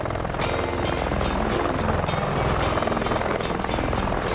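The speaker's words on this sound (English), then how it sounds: "He's landing on my bloody crew, Kaylor!" A helicopter lands close by, its steady rotor chop and engine whine loud and continuous throughout, with no voices over it.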